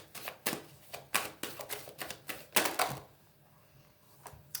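A deck of oracle cards is cut and shuffled: a quick run of dry, crisp card slaps and riffles, close and fairly quiet, fading to near silence before one last soft tap.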